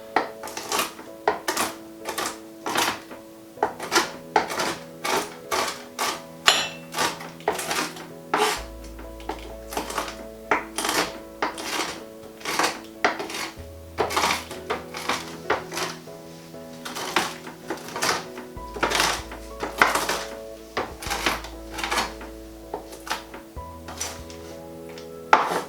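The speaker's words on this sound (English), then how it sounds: "now just need to chop them up. Just needs to be a sort of rough chop." Rough chopping of chickpea and pistachio burger ingredients with a knife on a board, a steady run of quick sharp knocks and taps, close and fairly loud, with soft background music and no talk.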